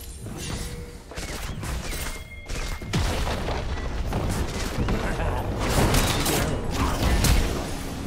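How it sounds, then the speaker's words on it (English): A turret is destroyed in League of Legends: a deep boom amid mechanical grinding and creaking that builds and swells over several seconds, layered with other game effects. "Blue team's turret has been destroyed."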